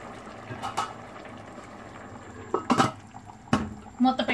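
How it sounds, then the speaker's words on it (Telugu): A vegetable biryani simmers in a covered pot on low heat, with soft bubbling and a few sharp, brief bursts of sputtering or lid rattle breaking a quieter background. "మూత పెట్టుకొని ఇంకొక 5 నిమిషాలు ఉడికించుకుందాము."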